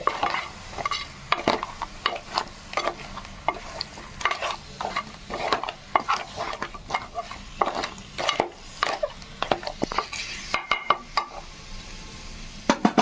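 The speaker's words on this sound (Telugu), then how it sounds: "వేసి అన్నీ కలిపి ఒకసారి మిక్స్ చేద్దాం. మసాలా అంతా దీనికి పీతలకు పట్టేటట్టే." Spicy coastal-style crab masala curry being stirred in a pan, a spoon scraping and clinking in quick irregular strokes over a soft sizzle, close and steady with no talking.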